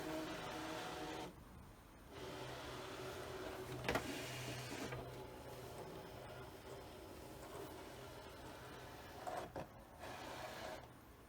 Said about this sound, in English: we're going to scan it in, click Start, then I have to move my machine so it doesn't hit the window